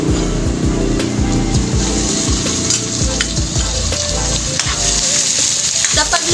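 Meat added to sautéed ingredients fries in a pan with a loud, steady, dense sizzle throughout, broken by occasional clinks and scrapes of stirring, no talk.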